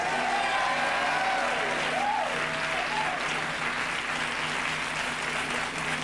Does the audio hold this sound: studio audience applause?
yes